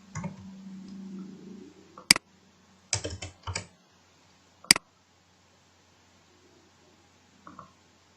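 A few sharp computer keyboard key presses, Ctrl C then Ctrl V, heard close as isolated clicks in small clusters with quiet gaps between them.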